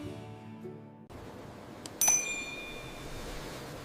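A bright notification bell ding rings out once over a soft backing track, its clear metallic tone lingering and fading.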